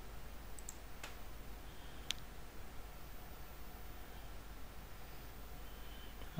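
Computer mouse clicks in Windows Server 2016 settings, a few sparse, faint, sharp clicks over a low steady background hiss.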